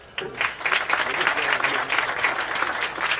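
An audience at a high school ribbon-cutting ceremony claps in a dense, steady burst that starts abruptly and carries evenly to the end, close and fairly loud.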